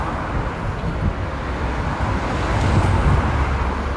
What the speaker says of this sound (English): Wee bit of traffic there behind me.